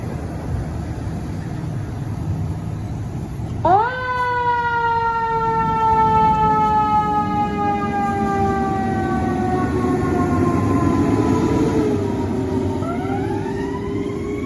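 Detroit Fire Department Engine 50 starts its siren on a priority medical call: a loud rising wail kicks in abruptly, sweeps slowly downward, then a second wail rises near the end over a rumbling engine.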